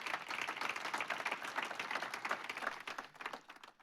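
Applause from an audience honouring the inventor of advertising posters, dense steady clapping throughout with no talk, tapering slightly at the end.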